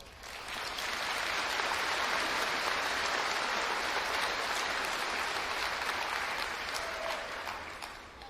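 Audience at a graduation ceremony bursts into a sustained round of applause, a dense, even wash of clapping that swells in quickly, holds steady for several seconds, then eases off at the end, with no talking over it.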